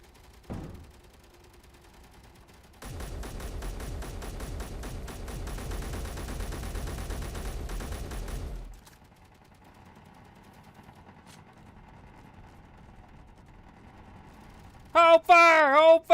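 Automated base turrets on a space station open up in a sustained rapid-fire burst of about six seconds, loud and mechanical, then cut off, leaving a low hum before a few sharp blasts near the end.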